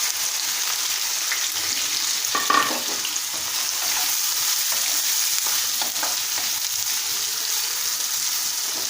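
Thin-sliced bitter gourd (kakarakaya) frying in an open pan for a crispy fry, giving off a loud, steady, hissing sizzle throughout with a brief scrape of stirring partway.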